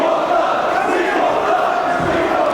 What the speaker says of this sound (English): As the crowd are already chanting, "We want blood," before the match has even begun.